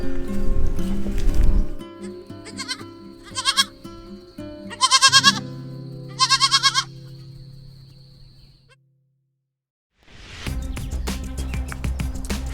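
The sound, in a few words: baby goat bleating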